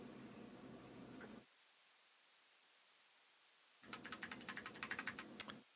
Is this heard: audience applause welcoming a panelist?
no